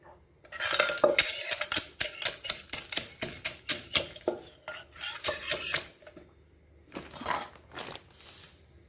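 Pickled field crab is pounded with dried chilli in a mortar, giving a steady series of sharp, close thuds and knocks in a quick rhythm that briefly pauses, then resumes more sparsely.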